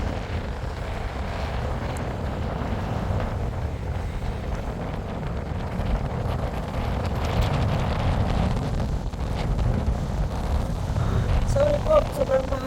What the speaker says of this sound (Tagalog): Sorry po, sobrang mahangin kaya mamaya na lang po ulit.